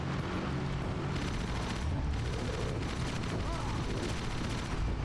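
Gunfire in Jak 3, a dense, continuous rattle of rapid shots with booming low rumble, fairly distant and steady over game sounds.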